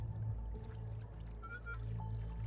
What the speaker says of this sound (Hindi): छत से बहुत ज्यादा पानी आ रहा है।